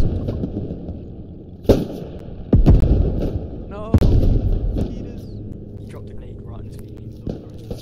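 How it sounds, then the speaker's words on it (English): A grenade explosion and gunfire erupt in the video game Beyond the Wire: several sharp, loud blasts and shots arrive at irregular intervals over a steady battlefield rumble, with voices talking in between. "No, he dropped a grenade."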